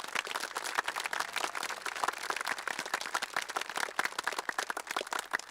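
Audience applause for school counselors at a West Virginia high school graduation ceremony, steady dense clapping from a crowd with no one speaking.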